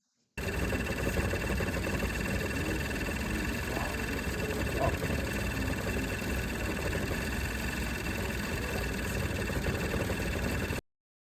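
A 2018 Hyundai Tucson engine runs at a steady idle close by, a constant mid-pitched hum and vibration with no changes in speed.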